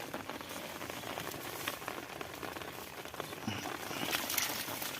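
Steady rain patters on a rice paddy, a dense, even hiss of drops with a slight swell toward the end.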